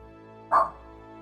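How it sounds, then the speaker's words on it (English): A single dog bark, short and moderately loud, rising once over a quiet steady background hum. "Dogs are barking."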